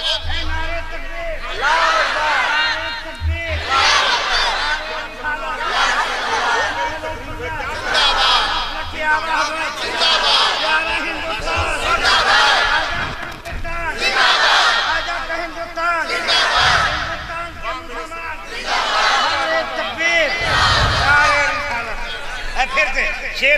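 A large crowd at a religious conference shouts the Nara-e-Takbir response in repeated loud surges, each roar swelling and fading in a steady call-and-response rhythm with a leader's voice between bursts.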